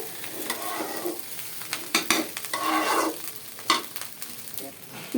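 Potatoes stir-fry in a pan, a faint, sizzling hiss broken by bursts of scraping and tossing from the spatula at an uneven rhythm, close by with no talk.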